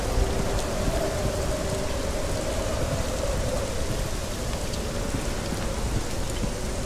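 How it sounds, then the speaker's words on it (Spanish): Heavy rain and thunder in the video game Hellblade: Senua's Sacrifice, a steady loud downpour hissing throughout with a low rumbling roll underneath, and no voices. "parece ser que hay mucha lluvia. Nos está dando en la cara."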